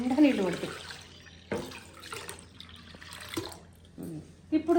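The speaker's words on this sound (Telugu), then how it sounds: "ఇంకా కొన్ని నీళ్ళు పోస్తాం" Water poured into a steel bowl of mashed raw mango pulp for an uncooked tamarind-style soup, a soft splashing trickle under someone talking nearby, with a few clinks of utensils.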